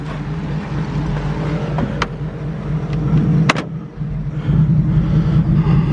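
A pre-war car engine idles with a steady low rumble while the driver tries to engage reverse gear, with a few brief clunks and a slight dip partway through.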